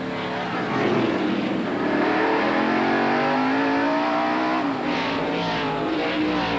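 NASCAR stock cars roar past at speed in a single-file pack, a loud continuous engine howl with rising and falling pitch as the leaders sweep by, no talk.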